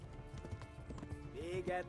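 Horse hooves clip-clop in the medieval role-playing video game Kingdom Come: Deliverance, a quick, busy rhythm of hoofbeats close up, ending with a brief whinny-like tone.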